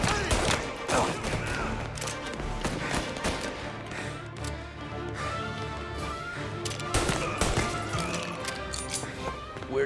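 Dense gunfire in Mafia: Definitive Edition, rapid shots and bursts crackling nearly nonstop across the scene with a rumbling game soundtrack underneath.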